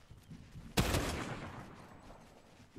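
A single loud gunshot from a Fortnite match cracks out sharply, its echo tailing off over a couple of seconds against quiet background.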